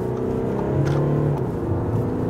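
An Audi A6 allroad in dynamic mode accelerates from 50 to 80 km/h to overtake. A steady engine drone and road rumble are heard from inside the cabin, rising slightly.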